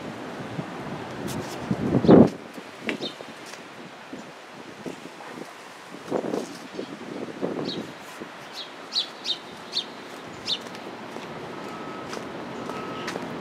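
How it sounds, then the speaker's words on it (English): Small birds chirp in scattered short calls outdoors in Uptown Charlotte, North Carolina, faint against steady wind noise and rustling, with a brief louder gust or bump early on. "Hear the birds chirping."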